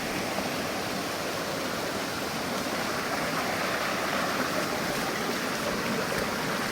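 Constant rushing water from a stream and the nearby Thottipparai waterfall at Odugathur, Tamil Nadu, a steady broadband roar with no talking.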